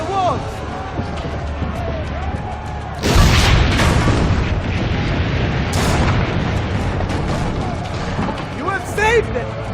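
Cannon fire in Assassin's Creed Brotherhood, during a siege on the town walls, erupts in one loud, deep blast followed by rumbling and further booms, with voices shouting over the fighting.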